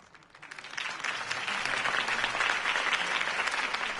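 Sustained crowd applause and clapping in the video game Batman: The Telltale Series, swelling up after a brief quiet start, dense and steady, with faint cheering mixed in.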